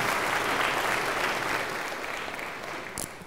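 An audience claps warmly at a talk, a dense burst of applause that gradually fades over a few seconds.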